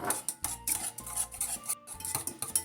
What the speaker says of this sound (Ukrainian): вливаємо кефір, всипаємо дріботку солі, перемішуємо